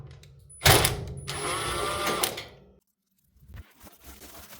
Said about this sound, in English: Remove the screw holding the pipe exhaust.